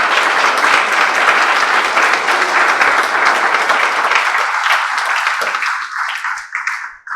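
A church congregation at a morning service bursts into loud, dense applause that holds for several seconds, then thins into scattered claps and trails off near the end.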